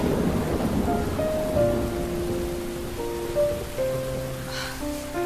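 Heavy rain with strong wind outside an inn at nightfall during a Korean historical drama, a steady dense wash of downpour with faint tonal music beneath, no talking.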